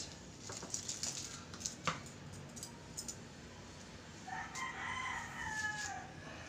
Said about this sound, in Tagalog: Sensya na po kayo sa ingay ng aso at mga manok.